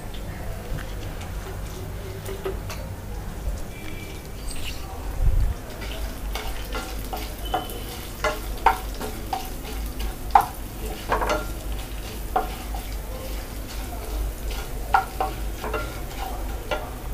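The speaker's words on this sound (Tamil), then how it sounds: "கருவேப்பிலை. இதை வந்து நல்லா நம்ம வதக்கணும்." Curry leaves sautéing in a pan for a country chicken gravy, with a steady low sizzle and frequent stirring clicks and scrapes. The frying stays moderately loud and close, and no one speaks over it.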